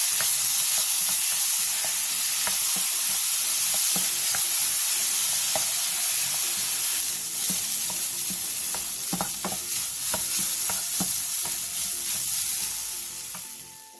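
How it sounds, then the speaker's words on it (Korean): Potatoes with salt stir-frying in an oiled pan over medium heat make a loud, continuous sizzle, with scattered scraping clicks of stirring. The sizzle fades near the end. "감자와 소금 1티스푼을 넣고 중불에서 3분에서 5분간 볶아주세요."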